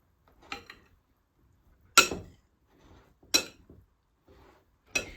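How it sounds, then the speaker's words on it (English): Cooked carrots and potatoes for a beef pasty filling being gently mixed in a bowl, sounding as four sharp clinks of a utensil against the dish spaced about a second and a half apart, with soft scraping between them. "Just going to gently mix this up."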